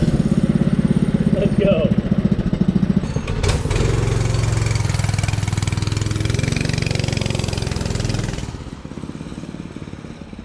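A Predator 224 small gasoline engine sputters and catches, then idles with a steady loud putter before dropping to a lower idle; a voice speaks briefly.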